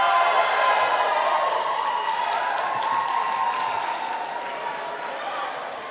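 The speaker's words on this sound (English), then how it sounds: "give me a cheer if you happen to be the only one here representing your university" A crowd of students cheers and claps at the 2013 National Student Television Awards, a steady, loud wash of whoops and applause that holds for several seconds and eases slightly toward the end.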